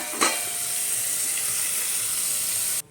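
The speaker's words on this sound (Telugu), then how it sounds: "పప్పుచారుకి పోపు తీసేసుకున్నానండి." Spice tempering for dal sizzles loudly in a hot pan, with a sharp burst as the ingredients hit the oil, then a steady hiss that runs close and strong until it abruptly cuts off near the end.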